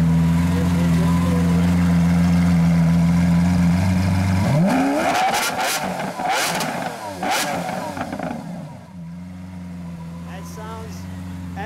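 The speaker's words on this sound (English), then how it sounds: "let me get a little exhaust note." A 2015 Lamborghini Aventador Roadster LP 700-4 idles loudly up close, then its engine is blipped in several sharp, rising revs that crackle through the exhaust before settling back to a steady idle.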